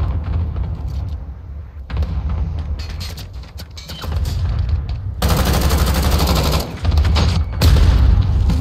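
Rapid bursts of automatic gunfire and heavy booms fill a hardcore team deathmatch round of Call of Duty Modern Warfare, loud and close with no voices.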